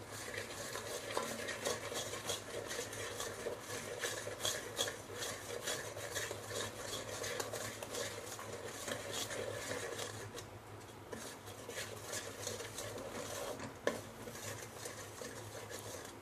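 A spoon stirs sugar as it caramelizes in a pan, giving a continuous quiet scraping and rubbing with small clinks against the metal.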